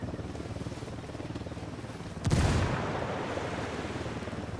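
A grenade blast in Ghost Recon Wildlands erupts suddenly partway through, a sharp loud boom that decays into a long rumbling wash over steady background noise.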